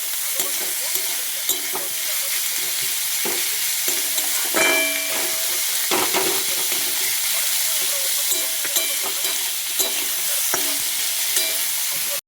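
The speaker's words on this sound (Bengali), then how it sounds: "দেখো পেঁয়াজ ভাজা আমার কমপ্লিট।" Onions frying in hot oil with a pinch of salt, a steady close sizzle and hiss with occasional stirring scrapes and clinks throughout, no voices.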